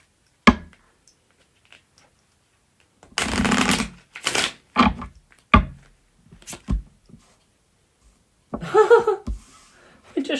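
Tarot cards shuffled in a few short, sharp bursts of riffling and tapping, close and fairly quiet with gaps of silence between them.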